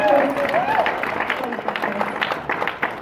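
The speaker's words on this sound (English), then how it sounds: "So yes, another round of applause for Chris." A convention audience claps for a speaker in a hall: dense, steady applause from a large crowd runs throughout, loud and sustained, with a voice speaking over the start.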